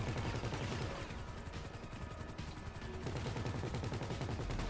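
Helicopter-mounted guns firing in Grand Theft Auto V, a loud, rapid stream of rattling shots that dips briefly midway before pounding on again.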